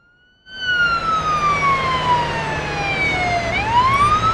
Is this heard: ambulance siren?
yes